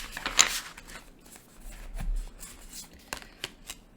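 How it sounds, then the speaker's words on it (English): Tarot cards are shuffled by hand close to the microphone, with a few quick riffling bursts and soft papery slaps spread across a few seconds at low volume. "I think I want to shuffle this one more time"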